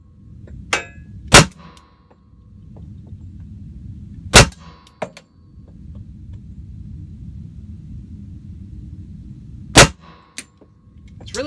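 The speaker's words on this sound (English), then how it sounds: "the beginning of the test, 8 rounds, slow fire" A .45 pistol fires slow, separate shots inside a small indoor shooting booth, giving sharp, loud cracks a few seconds apart over a steady fan-like rumble.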